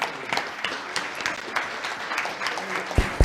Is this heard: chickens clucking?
no